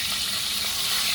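Chicken pieces coated in a mustard-based crust sizzle as they pan fry, a bright continuous hiss at close range, with no talking.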